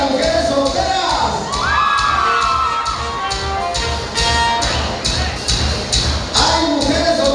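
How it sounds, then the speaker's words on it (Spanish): Single women at a wedding party in San Agustín Oapan letting out a loud collective shout and whoops, a crowd of voices cheering over a pulsing, rhythmic music beat, with one voice rising briefly above the din. "Y el grito de las mujeres solteras."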